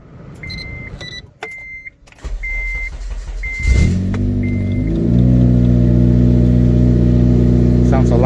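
An 8th-generation Honda Civic Si cranks and fires up, its engine settling into a loud, steady idle and then revving, heard through a muffler fitted with a silencer. A brief electric whine and faint chimes come before the start.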